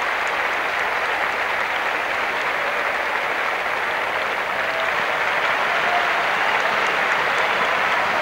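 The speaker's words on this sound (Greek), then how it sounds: "Νέα χειροκροτήματα." Crowd applause at a 1989 international basketball tournament award ceremony in Greece, sustained even clapping from a large arena audience, steady and full throughout with no voices standing out.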